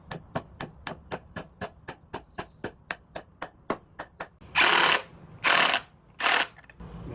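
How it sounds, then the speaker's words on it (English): Around sixteen evenly spaced hammer strikes drive an anchor bolt with a nut into wood during a garage footer foundation repair, each a sharp close knock, ending with three louder, longer clattering bursts. "What you do is you put this nut on here a little bit, just enough so you can hammer it"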